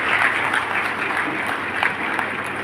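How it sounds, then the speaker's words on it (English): Dense, sustained applause from a school graduation audience, loud and even throughout with no break, a crowd of many hands clapping together. "Please give a big round of applause to this wonderful couple."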